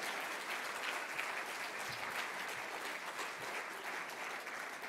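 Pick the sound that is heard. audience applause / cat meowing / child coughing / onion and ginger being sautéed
audience applause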